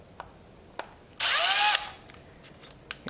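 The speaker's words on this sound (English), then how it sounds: "we're going to go ahead and we're going to drill some holes." Power drill boring holes through the first layer of a Z06-style conversion wing winglet on a C8 Corvette, one loud burst of just over half a second with a rising whine, alone between faint taps.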